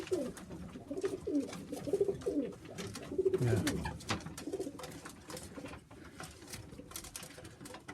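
Sheffield Tippler pigeons coo softly in their boxes, with low repeated burbling calls rising and falling over a rustling, pattering background, close by, and a brief word spoken.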